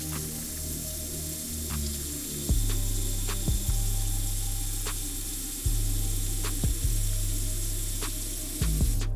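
Water running and splashing at a bathroom sink while a face is rinsed of foaming cleanser, a continuous close hiss with a low hum beneath and a few sharp knocks and clicks scattered throughout.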